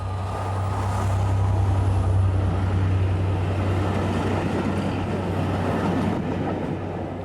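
A train of barrier vans rolls past on the railway on its way from Brighton to Derby, a loud steady rumble with a constant low drone and faint wheel clatter throughout.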